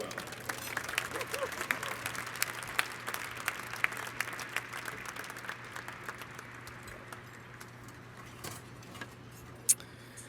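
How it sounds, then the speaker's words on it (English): An audience applauds at an outdoor cancer-survivor dinner event held on a baseball diamond. The clapping is faint and distant and tapers off over several seconds. "Dr. Borazanci, would you please join us up on stage and give him a round of applause as well?"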